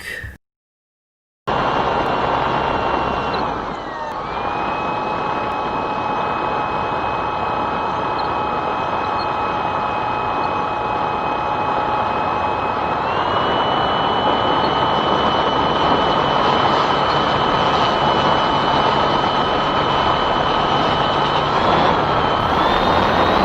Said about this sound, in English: float flying with the Cessna is going really nice. I enjoy flying the plane up here.